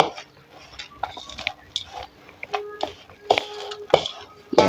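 Granola ingredients being mixed in a bowl, with irregular close clinks, taps and scrapes of a utensil against the bowl, fairly quiet with short louder knocks.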